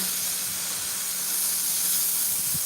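Butter melts on a hot griddle with a steady, fairly loud hiss and sizzle that carries on without a break and without talk.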